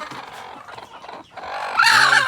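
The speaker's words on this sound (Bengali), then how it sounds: "এই ঘরে বড় মুরগি থাকে এবং এখানে ডিম পারে" Hens in a hen house where the big laying hens live and lay eggs cluck and call close by. Soft, irregular clucks give way to a louder, drawn-out squawking call near the end.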